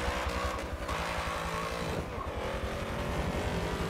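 A V8-powered Nissan S14 in a racing video game revs continuously, a steady buzzing engine drone that shifts pitch briefly around the middle, fairly quiet and with no talking.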